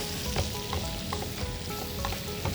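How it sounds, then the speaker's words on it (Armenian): Two beet and spinach leaves fry in a pan while an Italian risotto is being made, giving a close, steady sizzle with light crackles and the occasional scrape of stirring. "Այս երկու տերևն էլ տապակենք,"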